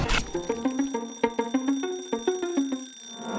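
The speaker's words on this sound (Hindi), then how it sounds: "सुबह का अलार्म बजता है" A bright, melodic electronic alarm tone plays a repeating pattern of short notes, loud and close, with no voices.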